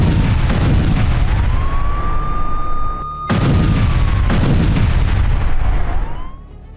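Israeli aircraft bombardment of Hezbollah positions: repeated loud booming blasts and sharp bursts, several heavy impacts in close succession with a sustained rumble between them and a brief drop in level midway.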